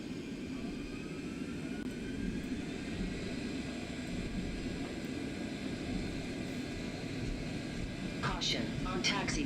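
A simulated airplane in the X-Plane flight simulator game rolls for takeoff. A steady engine drone builds under background noise, and brief cockpit alert tones sound near the end.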